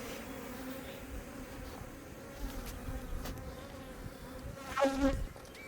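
Honey bees buzz steadily close by during a hive inspection, a dense continuous drone with a louder burst near the end as one passes the microphone.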